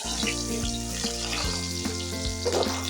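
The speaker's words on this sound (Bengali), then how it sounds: "আমি অল্প অল্প করে আমগুলো দিয়ে দেব এবং ভেজে নেব।" Raw mango pieces fry in oil for a sweet, sour and spicy pickle, a steady close sizzle with occasional stirring knocks and a faint background hum, no one speaking.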